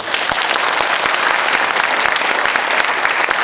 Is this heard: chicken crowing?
no